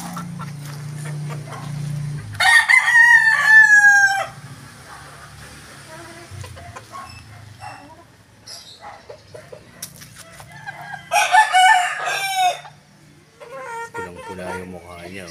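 A three-month-old rooster crows twice, loud and close, with gaps of quieter background noise and occasional clucking between the calls.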